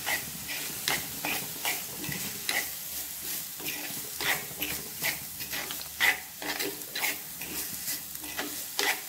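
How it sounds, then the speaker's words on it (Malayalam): Shredded cabbage with salt is stirred in a hot pan, with a steady frying sizzle broken by regular scraping strokes of a spoon, close up and with no talking. "ഇനി നമുക്ക് കുറച്ച് ഉപ്പിട്ട് കൊടുക്കാം എന്നിട്ടൊന്ന് ഇളക്കി കൊടുക്കാം"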